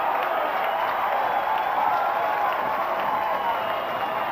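Steady crowd noise, cheering and applause at the 1989 NZ Club Nationals softball final between Poneke-Kilbirnie and Marist: a broad, distant-sounding roar that stays even throughout.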